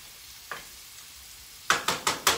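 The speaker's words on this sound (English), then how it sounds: "It's cooking. I'm not going to disturb it. I'm starting to see the fat render off the salmon pieces." Salmon pieces frying in a pan give a quiet sizzle, broken by one soft scrape and then a quick run of four sharp stirring or scraping strokes near the end, with no voices.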